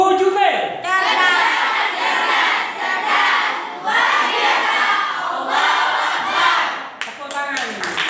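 A classroom of students chanting a class cheer together, loud shouted group voices in rhythmic bursts that nearly fill the clip, ending in a brief pause and a few scattered calls.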